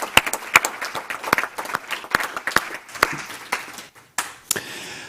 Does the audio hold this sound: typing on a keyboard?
no